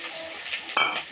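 Potatoes drop into hot oil tempered with black cumin (kalonji), and a close, steady sizzle follows. A brief louder hiss and a scrape of the pan come near the middle of the short burst.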